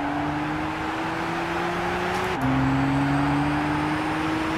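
A race car in Gran Turismo 6 drones at full throttle as a steady, loud engine tone, briefly dropping at a gear change before climbing again.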